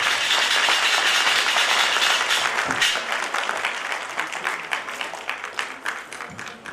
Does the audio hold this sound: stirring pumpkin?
no